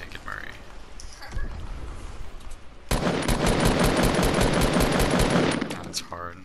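Sniper rifle fire in a video game: a sustained stretch of loud, rapid shots fills the middle of the scene after quieter background sounds, with a voice talking around it.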